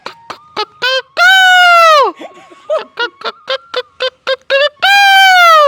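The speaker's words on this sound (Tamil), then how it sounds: "வாத்துடா வாத்துடா" A duck calls loudly and close by, with bursts of short quick honks broken by two long drawn-out nasal calls.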